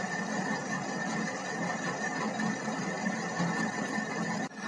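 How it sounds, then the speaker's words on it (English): A lathe turns a mild steel rod, giving a steady whirring machine hum with faint high tonal whine, constant and moderately quiet, ending in a brief clunk. "Here you can observe the turning operation. The workpiece is being turned."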